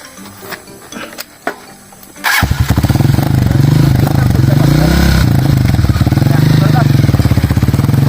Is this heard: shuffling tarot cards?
no